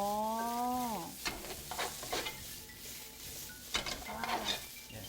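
Raw ingredients stir-fried in a big pot for a Japanese home-style dish, with a steady sizzle and repeated scraping stirs of a utensil against the pot, mixed with a brief sliding tonal squeal.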